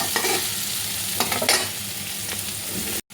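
Soybean chunks being lightly fried and stirred in a pan for veg noodles, a close sizzle with quick scraping stirs and a few bursts of crackle, ending in a brief cut.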